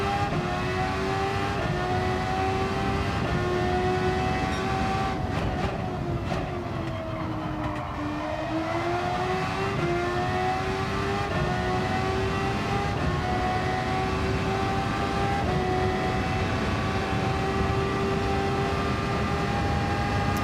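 Race car engine in a racing video game screaming toward 13,000 RPM, a loud sustained high-pitched whine with harmonics that dip and climb again through shifts, continuous with no talk.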